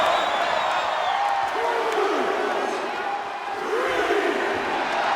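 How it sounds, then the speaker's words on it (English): Steady roar of an arena crowd cheering in the WWE 2K25 wrestling video game during a Randy Orton versus Bron Breakker match, loud and continuous with a brief dip midway, chant-like swells rising above the din. "Randy Orton feeding off this electric crowd."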